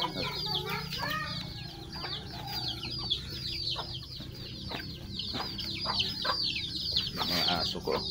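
Chickens cluck and squawk steadily at close range in a farmyard, with a busy layer of other bird calls running through the whole stretch.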